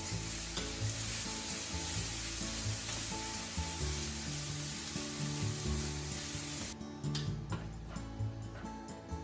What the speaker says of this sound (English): Add onion and shimeji into the same frying pan and saute them until it's well dipped.